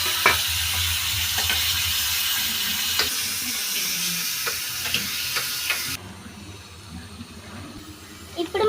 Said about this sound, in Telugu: ఫస్ట్ జీలకర్ర ఆవాలు వేసుకోవాలి. తర్వాత టమాటాలు ముక్కలు వేయాలి.